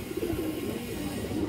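A large female Army pigeon with vivid red eyes coos in a low, steady, repeated murmur close by, with no voices over it.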